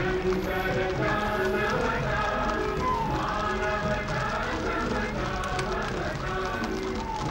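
Horses' hooves clip-clop in a Republic Day parade among mounted riders, a steady dense clatter of many hooves over loud crowd and ambient noise.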